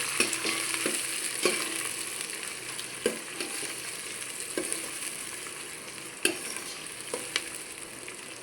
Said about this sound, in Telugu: కొంచెం బ్రౌనిష్ వచ్చే వరకు వేయించుకుందాం.